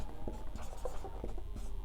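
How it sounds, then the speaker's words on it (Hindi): Pen handwriting on paper during a Hindi class 10 maths lesson: soft scratchy strokes in short, irregular bursts, close and quiet, steady for the whole stretch with no voice over it. "तो यहाँ लिख देंगे"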